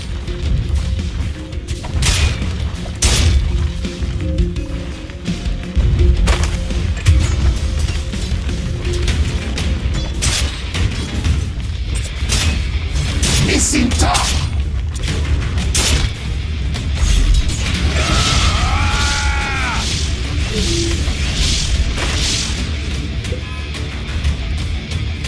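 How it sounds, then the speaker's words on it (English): Heavy booming hits land on a tower in Dota 2, a run of impacts and crashes over dense game sound effects with no talk. "Dire's bottom tower is under attack."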